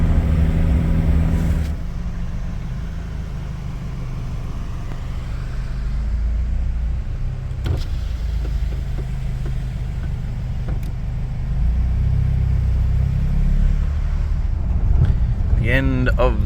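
A Beta 200RR two-stroke dirt bike labors up a steep track in a low gear, its engine a continuous low rumble mixed with wind buffeting on the microphone, rising slightly near the end.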